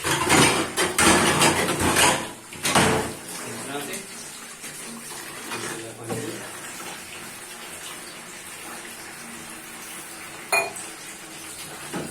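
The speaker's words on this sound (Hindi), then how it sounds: "साथ में देखिए कुछ बर्तन भी धो लेते हैं" Dishes being washed at a kitchen sink in a Pakistani home on Eid, running tap water with clinking pots and utensils, loudest at the start and then a steady trickle, with a sharp clink near the end.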